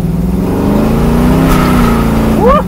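A 1969 Chevrolet Camaro muscle car accelerates hard, its loud engine rising steadily in pitch with a droning roar, then a short squeal of tires or a gear change near the end; no talking.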